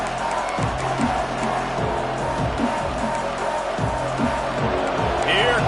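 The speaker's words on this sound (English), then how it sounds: "Here comes this home crowd as the defense tries to get off the field on third down" Home crowd at a college football game against TCU roaring steadily on third down, a broad sustained cheer in the background beneath a commentator's voice.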